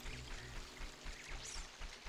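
River water flowing in the video game Zelda: Ocarina of Time, a steady rushing, pouring wash that stays even and continuous throughout with no speech.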